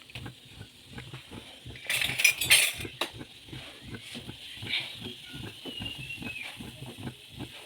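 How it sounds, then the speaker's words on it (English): Instant noodles dropped into a pot of boiling water, with a short burst of hissing steam and light clinks of utensils against the pot over a low bubbling simmer. "So now that our water is boiled, I'm going to add in our instant noodles."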